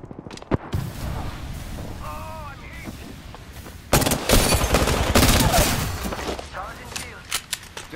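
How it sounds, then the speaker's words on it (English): Gunfire in the battle royale video game Apex Legends, sharp shots and rapid bursts, loud and close, mixed with game effects and a player talking over the action. "I'm taking shots. Bam! Bam!"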